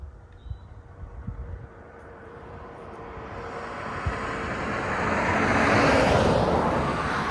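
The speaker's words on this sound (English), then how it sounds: "we're 2 meters above the crop. Let's do a little hover and look" A drone hovers about two meters above a canola crop, its broadband motor and rotor whir growing steadily louder and fuller, preceded by a few soft knocks, with no speech.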